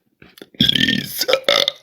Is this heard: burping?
yes